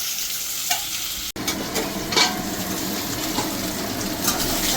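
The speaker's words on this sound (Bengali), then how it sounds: "আমি মাছের তেলে মাছ ভাজা করছি।" Hilsa fish pieces fry in their own rendered oil in a home kitchen pan, giving a steady close sizzle and crackle with a brief stir and faint clinks, with no talking.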